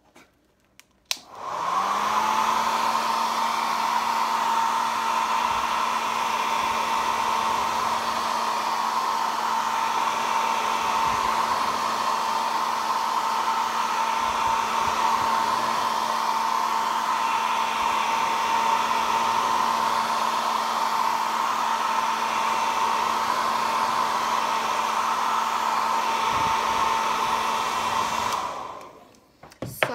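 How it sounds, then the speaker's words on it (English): An old hair blow dryer runs steadily and loudly close by, switched on near the start and off just before the end, with a constant high whine over airy rushing noise and no talk. "so I have to use one of my old blow dryers."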